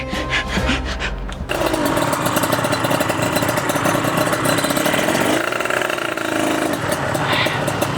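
A trail motorcycle engine runs steadily, a loud buzzing mid-pitched drone that holds for several seconds with slight shifts in tone, following a brief rumble at the start.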